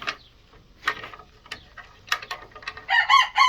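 Farm chickens give scattered sharp clucks, followed by a rooster's rising crow at the close, all fairly near.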